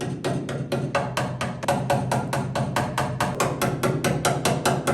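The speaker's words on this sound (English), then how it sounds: "let's get some hammer dolly action" Rapid, evenly spaced metallic hammer-and-dolly strikes on sheet metal for a Toyota SW20 MR2 rear diffuser, about four per second, ringing and close, with no talking.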